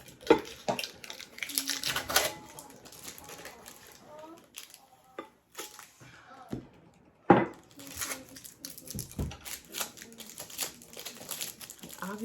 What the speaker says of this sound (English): These have felt on the bottom, so the tags definitely came off much easier.